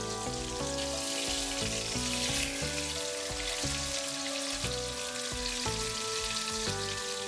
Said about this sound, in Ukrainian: Смажимо на олії з обох боків до готовності.